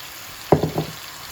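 Ripe snake gourd poured into a pan of cooked-down spice paste gives a short burst of sizzling, a few quick crackling splashes that settle almost at once.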